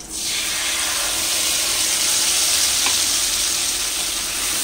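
A paste of poppy seed, cashew, raisin and ground mustard hits hot oil for hilsa, giving a loud, steady, hissing sizzle that holds unbroken throughout.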